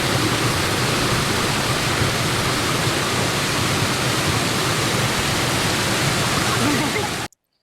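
A roadside waterfall in the Uttarakhand hills gives a steady, full rushing roar close by that stops abruptly at the end.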